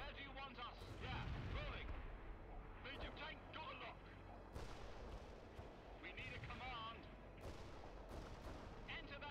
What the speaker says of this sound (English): this artillery is proving its value